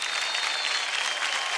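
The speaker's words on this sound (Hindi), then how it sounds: "एक बार जोरदार तालियां" Studio audience applause on a televised singing contest show, a loud, continuous burst of clapping from a crowd, even and dense from start to finish with no voices over it.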